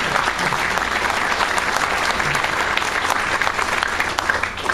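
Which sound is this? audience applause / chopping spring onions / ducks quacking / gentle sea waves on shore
audience applause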